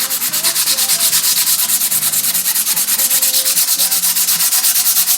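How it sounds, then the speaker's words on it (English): Coarse 80-grit sandpaper is rubbed by hand along the side of a speargun in rapid, even back-and-forth strokes. The scratchy, rhythmic rasp is loud and close, with no talk over it. "You're going to start just sanding on the side like that"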